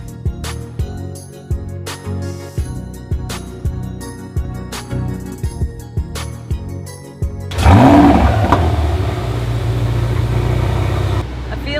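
A Bugatti's engine roars up in a loud, close surge and holds a sustained rev, following a stretch of rhythmic music with heavy beats.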